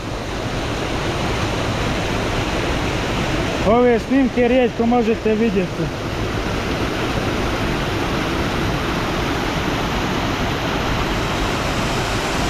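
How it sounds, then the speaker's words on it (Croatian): A small waterfall on the Ilomska river on Vlašić, heard from just above it as a continuous close rushing hiss. Someone speaks briefly over the water partway through, then the steady roar continues alone. "Ljudi, sada smo tik iznad malog vodopada"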